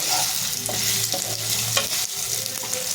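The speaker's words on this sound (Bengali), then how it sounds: "এবার আমি একটু নেড়ে ছেড়ে নেবো।" Paneer cubes sizzle in a hot pan while a spatula stirs them, a loud close crackle of frying with scraping stir strokes throughout.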